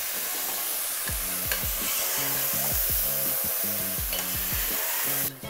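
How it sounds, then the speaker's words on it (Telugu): Rice fries in a pan for mutton biryani, a steady close sizzle with rhythmic scraping strokes of a spatula stirring the grains, no voices. "దీనికన్నా ముందు మనం రైస్ ఫ్రై చేసుకుందాం"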